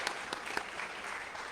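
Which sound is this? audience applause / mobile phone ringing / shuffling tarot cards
audience applause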